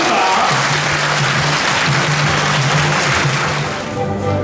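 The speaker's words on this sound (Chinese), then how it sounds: "请与会贵宾同仁热烈掌声欢迎总统及林部长" Loud, dense applause from an assembled audience welcoming the president and a transport minister at a political event, a sustained wash of many hands clapping for several seconds before tapering slightly near the end.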